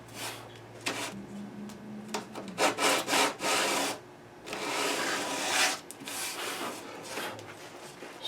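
A classical guitar's finish is hand-sanded with 120 grit sandpaper in a series of short, scratchy strokes, some quick and clustered and others longer and smoother, close and fairly quiet.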